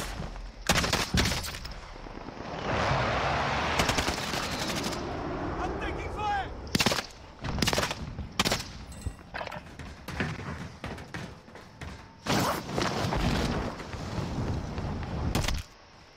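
Gunfire in a shooter video game, loud bursts of shots and booming blasts cutting in and out over rumbling battle noise, close and intense.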